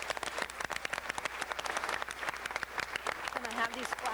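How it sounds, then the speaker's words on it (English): A council meeting audience applauds, a dense patter of many hands clapping steadily, with a voice speaking over it near the end. "I hope that all of you will give a big round of applause to Patricia Vincent and all of her friends"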